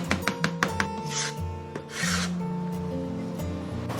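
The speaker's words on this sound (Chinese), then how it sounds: "大蒜给它拍碎，然后切末。" A kitchen knife smashes garlic cloves with a few sharp thumps, then chops and scrapes them into mince on a board, with quick taps and a rasping drag.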